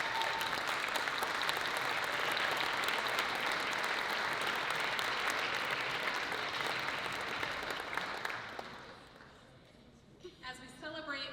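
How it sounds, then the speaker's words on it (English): Sustained audience applause at an awards gala honoring public policy excellence, a broad, even wash of many clapping hands that fades out near the end as a voice begins over the quieting room. "Can I get a big round of applause for Laura?"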